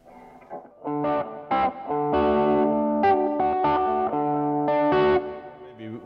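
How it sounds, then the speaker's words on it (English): An electric guitar on its bridge pickup plays distorted chords and single notes, bright and driven, with sustained ringing tones following a few sharp attacks. "First is the bridge pickup."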